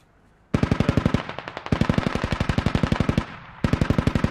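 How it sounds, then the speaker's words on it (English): Automatic weapons fire in Squad, a military shooter game, as loud, close, rapid bursts. Three long strings of evenly spaced shots are split by short gaps. "They're firing on friendlies."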